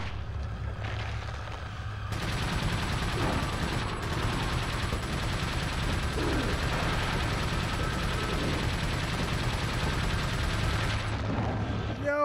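Sustained gunfire from a TMP machine pistol in the video game Resident Evil 4, a dense, loud barrage of shots with other game effects layered in, continuing nearly unbroken across the whole stretch.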